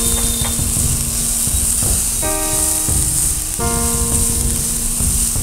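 Chopped onion and finely sliced green chilli fry in a pan with a close, steady sizzle and a few stirring scrapes, while brief tonal notes sound faintly underneath.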